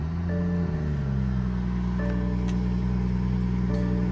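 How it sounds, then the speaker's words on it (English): A BMW 440i Gran Coupe's 3-liter twin-turbo inline-6 B58 engine settles into a steady, low idle right after starting, a quiet continuous hum with a slight drop in pitch early on. "it's BMW's 3-liter twin-turbo inline-6"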